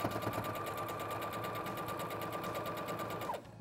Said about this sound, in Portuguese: sempre dá uma olhadinha que você está costurando direitinho